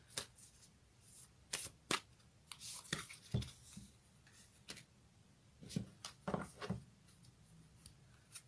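Tarot cards shuffled by hand, a series of quick riffling and tapping bursts at close range, fairly quiet with gaps between them.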